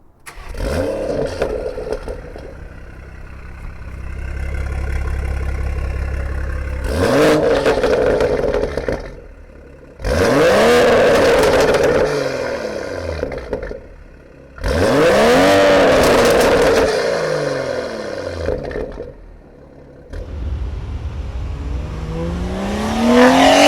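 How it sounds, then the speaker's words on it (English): BMW M240i xDrive with a B58 engine and twin carbon-fiber exhaust tips, starting with a low idle, then several sharp revs climbing and falling, heard close and loud with no talking. "And I can tell you this exhaust just sounds"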